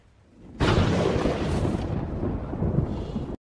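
A loud thunder crack from a lightning strike breaks in suddenly and rolls on as a broad, sustained rumble for nearly three seconds before cutting off, with no voices present.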